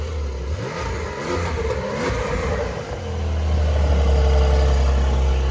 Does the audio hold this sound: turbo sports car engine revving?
yes